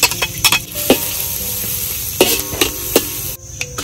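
Shallots and garlic fry in lard in a pan, a close crackling sizzle with sharp metallic clinks and scrapes from a utensil stirring against the pan at irregular moments.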